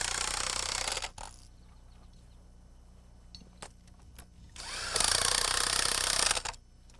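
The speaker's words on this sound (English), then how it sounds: "I like to tighten them down with an impact wrench" An impact wrench tightens nuts down onto bolts fastening wooden mud sills in floor framing, firing in two loud, close bursts of about a second each, separated by a quieter stretch with a few small clicks and knocks.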